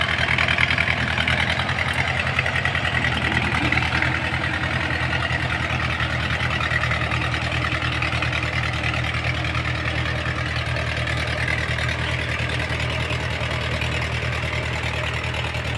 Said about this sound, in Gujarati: આવી રીતના ટ્રેક્ટર દ્વારા હળથી આ નાલી મારવામાં આવે છે